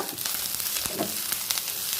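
Drumstick leaves sauté in a pan for sambar, producing a steady, close hissing sizzle with brief stirring scrapes throughout.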